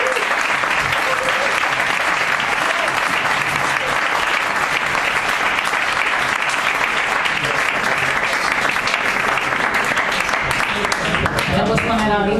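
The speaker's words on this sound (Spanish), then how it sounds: "Un aplauso." Audience applauding in an Irish pub in Madrid, a dense, steady wash of clapping that fills the room for the whole stretch and starts to thin out near the end.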